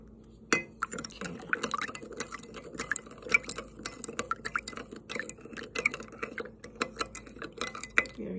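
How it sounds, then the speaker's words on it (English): Spoon stirring cane sugar into hot water in a glass or jar for water kefir: rapid irregular clinks and scrapes of metal on glass, close and continuous, with faint liquid swishing. "We are going to dissolve 1/4 cup of cane sugar in 1/2 cup of hot water."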